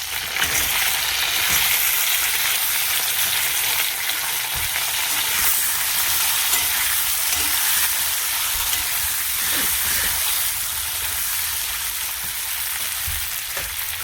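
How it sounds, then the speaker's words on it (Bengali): Taro, potato and eggplant pieces frying in oil in a pan, giving a steady, dense sizzle with occasional stirring scrapes and crackles throughout, close and continuous with no talking. "এটা ভাজা ভাজা হয়ে গেছে। এবার দিয়ে দিচ্ছি কচু, আলু আর বেগুন কেটে রেখেছি।"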